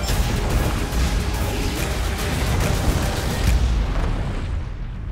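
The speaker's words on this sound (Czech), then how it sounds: "Pozor, výbuch!" A loud, sustained explosive rumble with deep booming low end and crackling debris, fading slightly at the close, from a trailer for the film The Addams Family 2.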